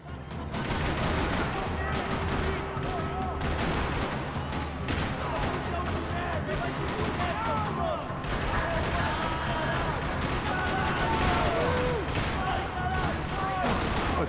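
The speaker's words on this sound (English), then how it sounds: "Another parking lot rattling with gunfire." Rapid bursts of gunfire rattle almost continuously in a parking lot in the video game Max Payne 3, dense and loud, with a few voices faintly underneath.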